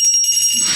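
A bell is rung to open a conference session, leaving a bright, sustained metallic ringing tone that lingers steadily, close and clear without talk.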